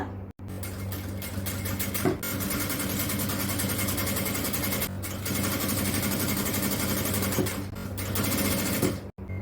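A sewing machine stitches a jalabiya in steady, rapid runs of mechanical whirring and needle clatter, loud and close, broken by brief pauses as the fabric is turned; no one speaks.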